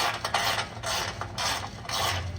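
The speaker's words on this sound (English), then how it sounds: "loosening this just to get more play once I loosen this bolt here" A ratchet wrench loosens a bolt while an Active Autowerks downpipe goes onto a BMW G42. Quick metallic clicking comes in four or five close bursts separated by short pauses.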